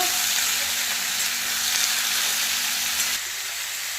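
Chopped tomato and green chili sizzle in a hot pan, giving a bright steady hiss under occasional stirring, which quiets abruptly near the end.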